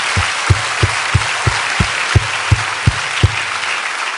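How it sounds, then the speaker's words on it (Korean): A church congregation claps together during a sermon: steady, dense applause with a strong regular pulse of louder claps landing about three times a second, close and sustained throughout. "이 호박들에서 박수 한번 칩시다."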